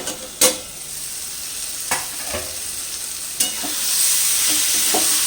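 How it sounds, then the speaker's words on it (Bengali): Bottle gourd and shrimp sizzle steadily in a pan on the stove, with a few sharp scraping knocks from a stirring utensil spaced a second or so apart over the constant frying hiss. "আবারও নাড়াচাড়া করে ঢাকা দিয়ে দিলাম আর ঢাকনা খুলে একবার নাড়তে হবে"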